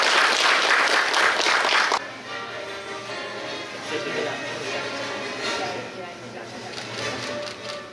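A crowd at a school principal handover ceremony in Changhua County bursts into loud, dense applause for about two seconds; it then drops away to quieter room sound with speech.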